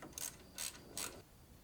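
A ratchet backs out a 10mm bolt holding an AC line on a Hyundai Sonata YF during serpentine belt work, making three quiet, evenly spaced metallic clicks close up.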